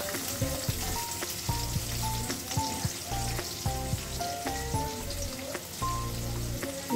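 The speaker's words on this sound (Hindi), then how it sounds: "अब इसमें हमारा बटर पिघल रहा है, तो सबसे पहले हम इसमें डालते हैं प्याज" Chopped onions sizzling in melted butter in a pan, a steady dense crackle and hiss with scattered pops and a few utensil knocks, close and alone without speech.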